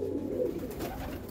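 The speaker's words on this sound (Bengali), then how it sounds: "এই দোয়াজ মাদি পায়রা" A female Doyaj pigeon coos in a low, soft murmur, a few rolling notes held close by over a faint steady background.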